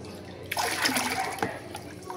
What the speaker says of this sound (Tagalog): dagdag na tayo ng tubig